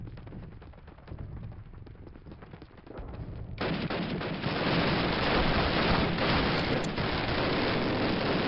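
Gunfire in the video game Call of Duty (2003) starts as scattered distant shots and then swells into a loud, steady roar of heavy battle fire, with rifle and machine-gun bursts blending together.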